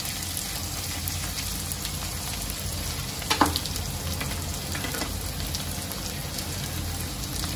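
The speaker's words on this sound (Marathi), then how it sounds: "तेलामध्ये परतून घेते" Dill and spinach greens sautéing in oil in a pan for a Khandeshi shepu palak bhaji, a steady close sizzle and crackle throughout with one brief louder stir or clatter midway.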